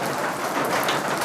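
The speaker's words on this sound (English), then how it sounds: "Can you still hear me over this rain?" Very loud rain pours down in a dense, roaring downpour, close and constant with no break, drowning out everything else.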